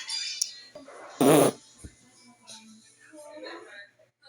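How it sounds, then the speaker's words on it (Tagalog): A short, loud, raspy fart bursts out once near the middle, set between scattered quiet rustles and faint background voices. "Sino yung umutot?"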